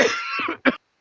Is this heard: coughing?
yes